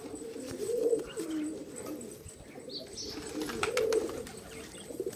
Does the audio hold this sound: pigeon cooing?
yes